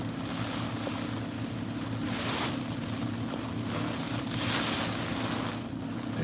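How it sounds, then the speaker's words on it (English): Storm wind from Hurricane Francine in Louisiana roars steadily and close, a dense, buffeting rush with slow swells in strength and no voices. "You know it's storming here."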